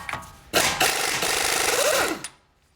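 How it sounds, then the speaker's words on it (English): An impact wrench spins off a 32mm axle nut on a Chrysler Town & Country in a short, loud burst of rapid rattling lasting under two seconds, then cuts off. "it's got a 32mm nut here. I'm going to pull that off."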